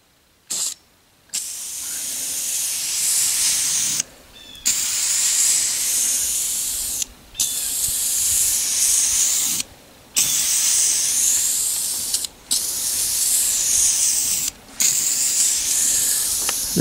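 An aerosol spray can hisses in repeated long bursts of several seconds each, separated by short pauses, loud and close while paint is sprayed near a window.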